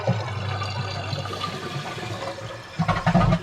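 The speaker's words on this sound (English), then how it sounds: "So we will flush the tank just a touch." A toilet tank flushing briefly during a fill valve replacement, a steady rushing of water that surges louder near the end as the tank drains, heard close up and alone.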